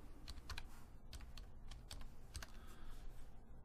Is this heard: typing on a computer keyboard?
yes